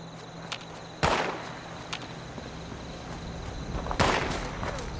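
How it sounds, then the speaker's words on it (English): Gunshots in the post-apocalyptic game Fallout 76, two sharp, loud reports about three seconds apart, with a few fainter distant cracks and ambient game sound between them. "Somebody's shooting something."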